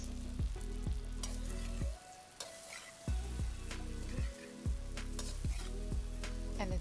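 Pork liver with red and green chili peppers tossed in a hot wok, a loud steady sizzle broken by repeated rhythmic scraping strokes of a spatula, with a brief quieter pause partway through.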